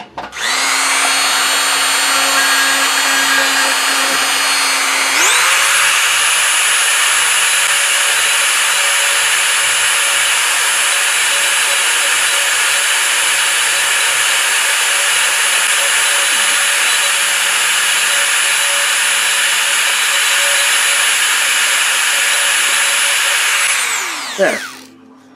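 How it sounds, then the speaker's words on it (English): A Dremel rotary tool grinds glue off a 3D-printed tank, whining at a lower pitch at first before jumping higher and holding a loud, steady shriek for about twenty seconds, then spinning down. "Let's see if I can fix it with the Dremel."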